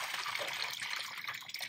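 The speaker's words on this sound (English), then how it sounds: "we're going to add in 4 pints of RODI water." RODI water poured into a container for curing dry reef rock, a soft close splashing trickle with fluctuating gurgles, quiet and alone.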